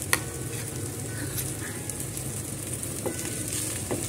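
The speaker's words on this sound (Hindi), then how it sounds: "ये हमारे छोले हैं जो हमने मैश किए थे, इनको हम इसलिए भून रहे हैं" Mashed chickpeas frying in a pan to dry out their moisture, giving a soft, steady sizzle with a few faint stirring scrapes, close and quiet, with no talking.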